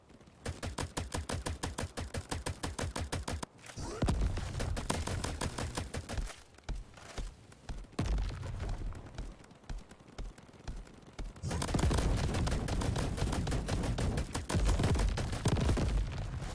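Rapid automatic turret fire from the Crab Champions video game, a dense fast rattle of repeated shots running in long bursts with brief gaps, loud and close over a busy game soundscape.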